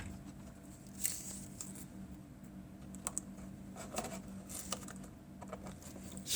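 Tape is pressed and smoothed onto a Titanic wreck model diorama, producing faint, sparse crackles and light taps close by over a low steady hum.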